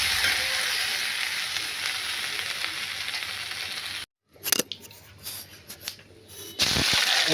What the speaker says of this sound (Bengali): আলুটাকে লাল করে ভাজতে হবে ভালো করে ভাজতে হবে